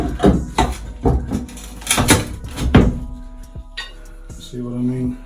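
Crowbar prying off nailed wooden batten strips beside a radiator in a bathroom, a few creaking wrenches and knocks over the first three seconds, followed by faint scraping and short voiced sounds.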